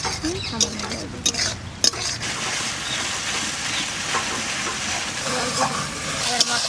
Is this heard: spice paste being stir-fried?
yes